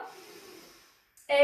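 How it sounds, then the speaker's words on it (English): Breath pushed out through the mouth during a hypopressive breathing exercise: a long soft airy exhale that fades to silence, then a sudden louder rush of breath starting at the end, close to the microphone. "inhale, exhale, again,"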